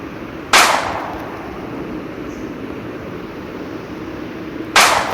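Gunfire in the mobile shooter Lone Wolf: two sharp single shots about four seconds apart, over a steady background hum of game ambience, with no voice.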